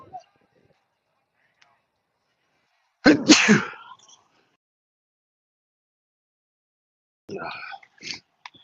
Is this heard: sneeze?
yes